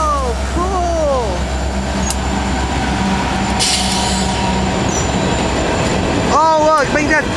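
A long Norfolk Southern mixed freight train passes at a road crossing in Columbus, Ohio: steady rolling rumble of railcars and wheels, with brief squeals and voices talking over it.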